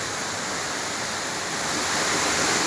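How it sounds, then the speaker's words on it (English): A waterfall in full flow on South Africa's Garden Route on a stormy day, with the river swollen by rain, roars as a steady, dense rush of white water that grows slightly louder and never lets up. "The river is pumping."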